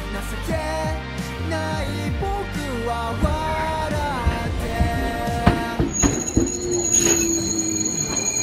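A Japanese electric train rolls along the rails near Kawaguchi Station with loud metallic squealing from the wheels, rhythmic clacks and rumbling, and a high whine rising near the end.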